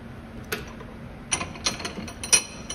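A hand tap cuts a thread into the bottom of a hole in a metal part from a Tormach 8L lathe job, giving a few sharp ratcheting clicks spaced unevenly, close and quiet with no talking.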